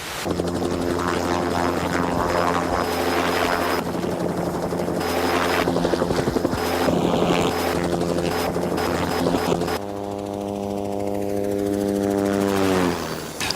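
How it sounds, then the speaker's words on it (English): Loud, steady helicopter rotor and turbine drone flown by an Army National Guard pilot, holding a constant pitch before a sharp shift to a smoother tonal whine near the end; no talking. "This is the machine I fly, a helicopter."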